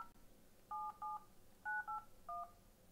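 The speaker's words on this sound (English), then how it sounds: "Let's make a phone call." Keypad tones from a Blackberry or Nokia dumbphone beep five times in an uneven dialing rhythm, short clean electronic pulses, faint and close, with no one speaking.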